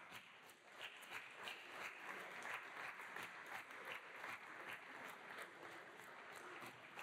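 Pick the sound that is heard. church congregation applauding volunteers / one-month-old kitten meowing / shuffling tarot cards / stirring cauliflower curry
church congregation applauding volunteers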